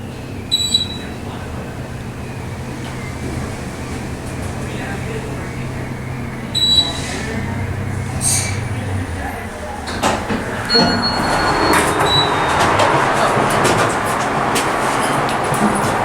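An Otis traction elevator in a small tin-can cab on the Sutter General Hospital crossbridge in Sacramento: door slides and faint chimes, then a rumbling, rising ride noise that grows louder and steadier toward the end.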